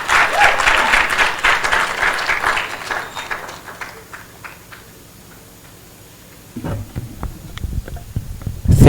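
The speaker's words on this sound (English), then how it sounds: "Let's give the PS another round of applause." An audience at the closing of a national youth symposium on public debt applauds, dense clapping that thins out to scattered claps and near silence, then rises again toward the end.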